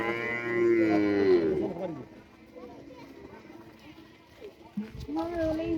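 A cow calls with a long, loud, nearby moo on a farm where a calf has a rope pulled tight around its neck, followed by quieter shuffling and a softer second call near the end.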